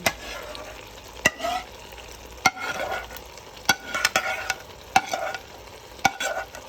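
Sauce goes into a hot pan of fettuccine and sizzles steadily, while a utensil strikes the pan sharply about once a second as the mix is stirred, close and clear, with no talk.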